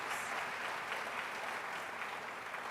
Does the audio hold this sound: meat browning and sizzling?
no